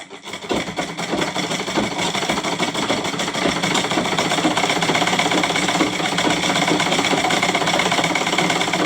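A sewing machine runs steadily while stitching a straight seam on a lungi, giving a continuous close mechanical whir and rattle that holds for several seconds without a break.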